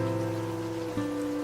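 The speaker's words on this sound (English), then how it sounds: "Only the rain remained." Rain as a sound effect in a Halloween love-story audio drama, a soft steady patter beneath sustained low tonal hums, with no talking.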